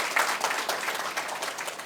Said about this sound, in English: Let's give a round of applause to her.